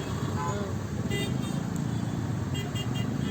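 Congested evening traffic on a Bangalore road, heard from a motorbike, with a steady engine and road rumble and several short car horn toots scattered through, some nearer, some farther off.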